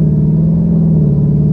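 A Ford Mustang GT's 5.0 Coyote V8 with an X-pipe exhaust idles or cruises with a deep, steady, throaty drone, loud and close, holding an even pitch throughout.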